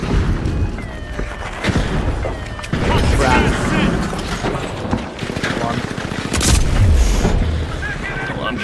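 A frag grenade goes off in The Finals, a deep booming blast that rises out of busy game noise of gunfire and debris, with a player talking over the action.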